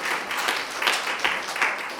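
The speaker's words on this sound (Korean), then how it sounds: "큰 박수 부탁드리겠습니다." Audience applause at a youth policy market event in Goesan County, Korea, thanking a student group; a steady wash of clapping from a crowd, fairly close, lasting the whole moment with no talk over it.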